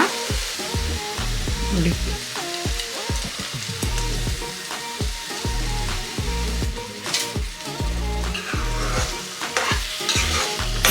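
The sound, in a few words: stirring pumpkin halwa with fried dry fruits in pan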